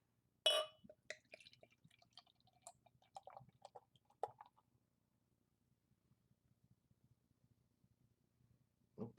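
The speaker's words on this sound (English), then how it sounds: "Very nice pour" New England IPA beer pours from a bottle into a glass, soft close trickling and dripping with faint glassy clinks, tapering into near silence before a final brief clatter.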